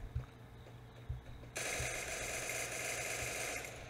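Free Fire battle royale gunfire: a few sharp distant shots early on, then a sudden loud, sustained burst of rapid automatic fire up close.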